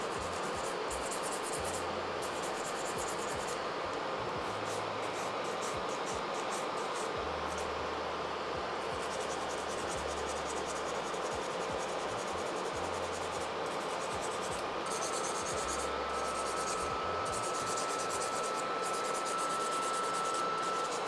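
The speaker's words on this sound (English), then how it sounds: "We're just gonna file the sides and then the surface and then the tip lastly." Nail file rubbing across fingernails, filing the sides, surface and tips during a manicure: steady close scratchy strokes running continuously and fairly quietly with no talk.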